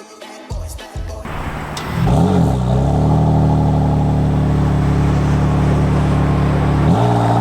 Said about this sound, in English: So I'll put my foot down and we'll see how well the engine responds to it.